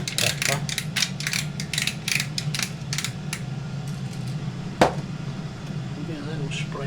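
A black pepper mill grinds over seasoned food in a kitchen, a quick series of dry ratcheting crunches up close, followed by a sharp knock and quieter handling, with talk alongside.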